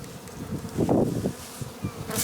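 Honeybees buzz around a university apiary hive in spring, a close, steady hum that swells briefly in the middle as insects fly near.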